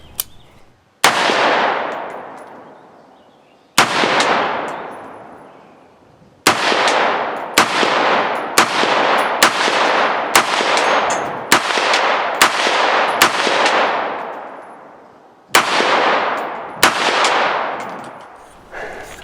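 Brownell BRN-180 rifle firing: a dozen sharp, loud gunshots at uneven intervals, each with a long echoing decay, some in quick pairs and others spaced seconds apart.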